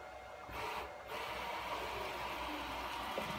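A ClearPath servo motor driving a BridgePort J2 mill spindle at around 1,000 RPM, a steady fast whirring mechanical hum with a slight shift in pitch near the start.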